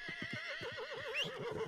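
A horse in Red Dead Redemption 2 gives a loud, wavering whinny up close, its neigh trembling up and down over soft hoof clops.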